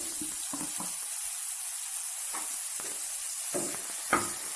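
Paneer frying slowly in a pan for a tiffin bhujia, a steady soft sizzle running throughout, with a few brief clattering stirs and scrapes breaking in at intervals.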